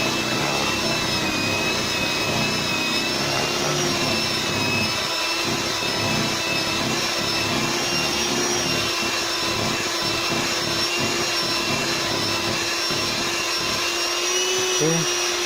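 An electric mixer whirs continuously, blending sugar into cherry cheesecake batter with a steady motor whine and churning texture, close and loud throughout without pause.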